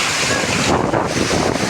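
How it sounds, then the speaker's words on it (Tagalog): Strong gusting wind carries rain, roaring as a dense, loud rush of broadband noise with heavy buffeting against the microphone, no voices. "Sobrang mahangin, guys."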